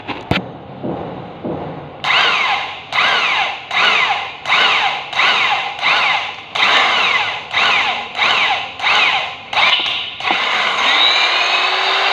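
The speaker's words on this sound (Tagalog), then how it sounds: "butasin na natin ng mas malaki itong angle bar" An electric drill fitted with a large bit bores through thick steel angle bar, giving a loud, harsh grinding whine that comes in about a dozen even, rhythmic bursts before settling into one steady, continuous cut near the end.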